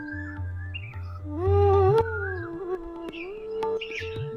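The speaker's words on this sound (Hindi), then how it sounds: "देखो कोयल की आवाज़ कितनी अच्छी आ रही है" Koel calling in the Aravalli hills forest, a clear rising whistled note swelling loud and then easing, with faint chirps from other birds and a low background hum, no voices.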